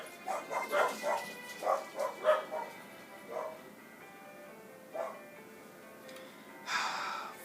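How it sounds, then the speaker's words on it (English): Several dogs bark in repeated bursts, loud and fairly close, with quieter yips and whimpering in the gaps and a brief rustling noise at the end. "Four dogs, 3 of them bark, 1 hides."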